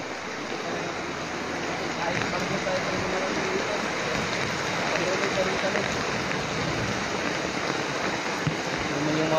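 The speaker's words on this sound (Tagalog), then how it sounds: "Kahit sobrang lakas yung ulan." Very heavy rain pours down steadily in a dense, continuous hiss, loud and unbroken throughout with no pauses.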